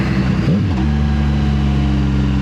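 Motorcycle engine revving during gear-shifting practice, with a loud, close, steady drone whose pitch dips and climbs sharply early on, then settles into a sustained even hum.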